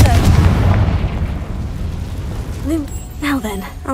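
A Confringo spell explosion in Hogwarts Legacy, a heavy booming blast at the start that decays into a rumbling tail, with a voice speaking briefly near the end.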